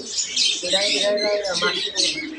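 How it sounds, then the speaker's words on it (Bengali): Pigeons, racers among them, at a village market in Bangladesh, heard as a loud close mix of chirps and coos with a bustling market din around them. "দেখেন এখানে অনেক কবুতর আছে।"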